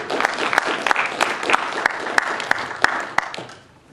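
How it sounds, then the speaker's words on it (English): An audience at a forum showcasing young scholars applauds the speakers, steady close clapping with some sharp individual claps that dies away at the very end. "Let's give another round of applause for these great speakers."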